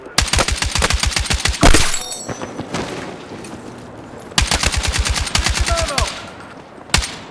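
RPK light machine gun fire in Battlefield 6: two long, loud bursts of rapid evenly spaced shots at close range, separated by quieter battle noise with a few scattered single shots.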